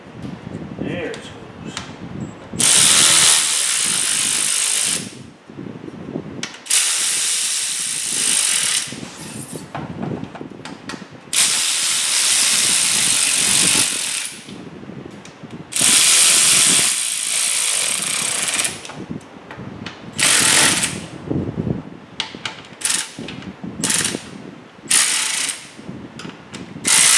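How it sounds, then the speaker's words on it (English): A ratchet snugging up bolts on a 2005 Kia Sedona radiator, with loud bursts of rapid clicking that stop and start again many times, and someone talking in the pauses. "I always like to snug the bolts all up first before you actually finish tightening something down"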